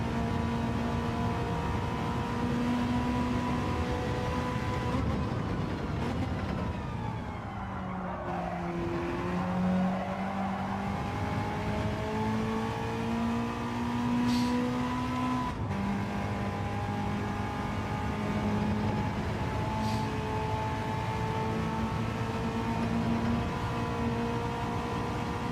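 A car engine revs hard in a steady, sustained drone for the whole stretch, pitch dipping and climbing as gears change, with a brief tire squeal midway and no voices.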